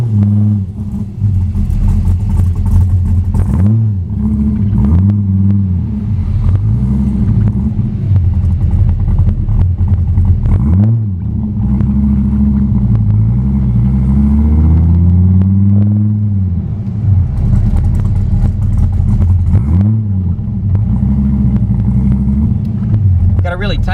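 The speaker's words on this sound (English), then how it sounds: "We go for our first drive." Gen 5 car with a tight lobe center cam rumbling and revving on its first drive, a loud, choppy low idle and throttle blips rising and falling throughout, heard from inside or close by.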